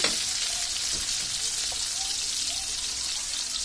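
Chopped onions fry in hot oil on their way to a light browning, giving a steady, close sizzling hiss with a few soft stirring scrapes and no talk.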